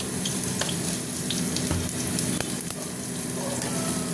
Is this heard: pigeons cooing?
no